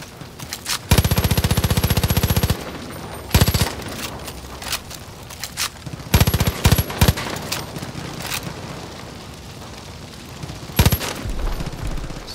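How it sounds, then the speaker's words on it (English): Bursts of automatic gunfire with piercing ammunition in Far Cry New Dawn: a long loud rapid volley, then shorter bursts and scattered single shots separated by quieter gaps of game ambience. "You can see the burst with the piercing ammunition."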